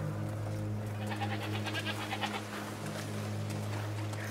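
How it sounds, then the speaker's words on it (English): Goats bleat in a short series of wavering cries in A Plague Tale: Requiem over a steady low hum, fairly close. "What's over there? Goats!"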